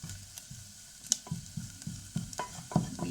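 Onion roasting in a frying pan, a close soft sizzle with repeated scraping and stirring clicks as it is moved around.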